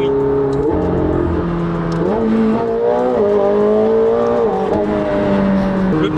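McLaren 720S supercar engine running at high speed on the autobahn, a loud, sustained throaty roar with rising and falling tones as revs shift, close and continuous throughout.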